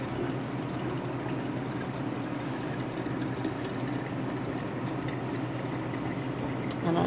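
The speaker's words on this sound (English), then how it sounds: "fill this with some nice filtered water." Filtered water pours steadily into a container for sweet tea kombucha in a home kitchen, a soft, continuous trickling fill heard alone at low volume throughout.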